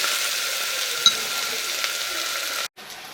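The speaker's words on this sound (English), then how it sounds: "So let's fry them up." Eggplant slices fry in a pan with a steady, close hiss of oil, broken by a small clack and then a brief drop to near silence before the sizzle returns.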